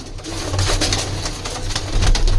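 Golden pigeons coo in low, rolling murmurs that repeat steadily, close by, with a hum of background noise and no talking.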